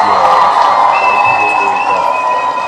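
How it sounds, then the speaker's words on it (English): A crowd cheers and applauds loudly and steadily, with whoops and shouts rising over the clapping throughout. "Let's go ahead and give them a round of applause."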